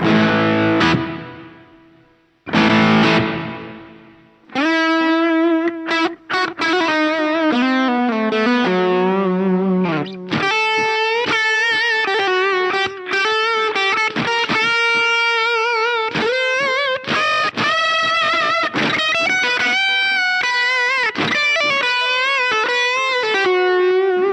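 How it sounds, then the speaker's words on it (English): An electric guitar plays through a guitar amplifier set to its reverb effect, with distorted chords and notes ringing out in long, washing tails. Short strums and pauses at the start lead into sustained, steady playing. No voices are heard. "if we turn this little knob further, we'll go into the reverb section."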